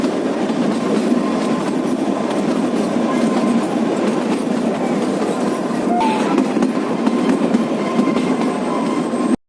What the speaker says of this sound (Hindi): अर्थात ट्रेन एक बस की तरह ट्रैक पर चलती है।